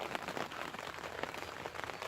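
Rain falling outside on a birthday morning, a faint, steady hiss of drops spread evenly across the whole stretch with no voices.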